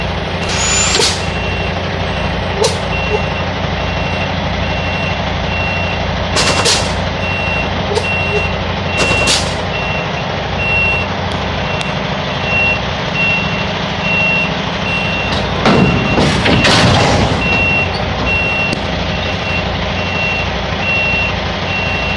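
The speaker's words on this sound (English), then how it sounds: "we're gonna continue backing it up until we connect to the trailer" Tractor truck backing up to couple with a trailer, with repeated reversing beeps, heavy diesel engine rumble and bursts of air brake hiss, loud and close throughout.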